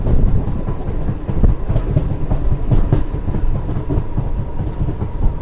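The Seven Hills SF Express rolls along the rails near Tirupati, with a loud, close, continuous rumble and a steady clickety-clack of wheels over track joints.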